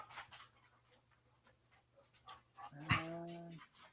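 A dog gives a single short bark, fairly near, against a quiet room with faint hum, after a few seconds of near silence.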